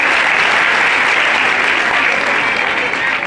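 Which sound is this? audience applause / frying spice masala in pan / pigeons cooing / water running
audience applause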